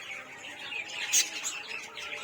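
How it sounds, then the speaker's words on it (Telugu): Parrots at Kotappakonda zoo park give short, high chirps and squawks, moderately close, with one brief louder call in the middle over a faint ambient background. "ఇదిగోండి ఇవే అనమాట చిలుకలు."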